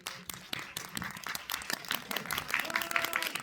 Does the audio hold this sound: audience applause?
yes